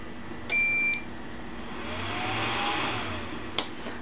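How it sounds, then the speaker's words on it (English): A ZPB30A1 electronic dummy load's buzzer gives a short, fairly loud beep near the start and a brief chirp near the end, over a quiet bench background. "still the buzzer will be on"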